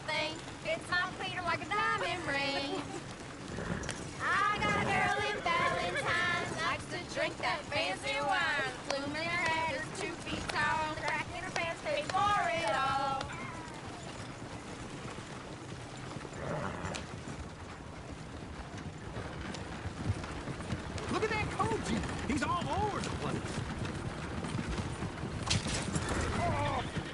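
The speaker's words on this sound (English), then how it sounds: "The horses! Damn horses!" Horses' hooves clip-clop steadily at moderate distance, with a whinny-like call and voices talking over and around the hoofbeats throughout.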